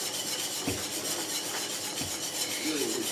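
Maize meal is trickled and stirred into a pot, producing a soft, continuous grainy hiss with a few light scraping strokes of a spoon against the pot.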